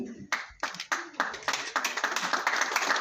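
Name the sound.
audience clapping during a felicitation ceremony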